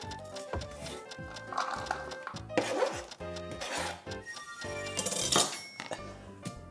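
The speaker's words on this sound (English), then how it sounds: "we're gonna turn it sideways again and chop" A knife chops bacon and onion on a cutting board in a home kitchen, giving a run of sharp, close knocks in uneven bursts, with clinks and scraping between strokes and faint talk at times.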